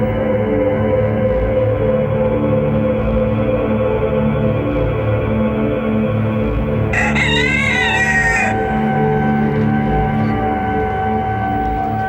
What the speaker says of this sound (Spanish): El canto del gallo y la llamada a la oración desde los alminares de las mezquitas anuncia el comienzo de la actividad humana en la ciudad.